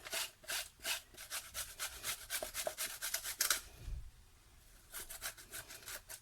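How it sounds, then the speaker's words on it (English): A courgette rasped against a kitchen grater in quick rhythmic scraping strokes, a run of steady rubbing passes, a short pause, then more strokes, close and fairly quiet. "So I'm going to grate my courgette. So this is quite a tedious grating activity."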